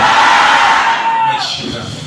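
A church congregation at a Haitian gospel service shouts "glory" together in a loud, close, sustained crowd yell that fades into scattered voices.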